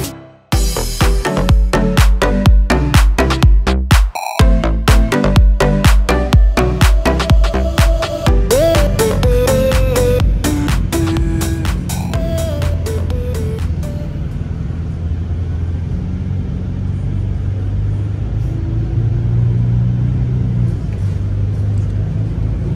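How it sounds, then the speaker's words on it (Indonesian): Volvo B11R double-decker bus with an I-Shift automatic transmission, ridden from Arjosari terminal in Malang: a continuous low engine rumble under loud, dense music at first, then the steady drone alone. "dari bis double decker Volvo yang aku naiki"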